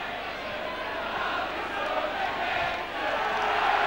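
A rugby league crowd in the South Stand at Headingley, Leeds, for a 1994-95 Leeds v Doncaster match, keeps up a steady, dense roar with shouting and cheering swelling throughout.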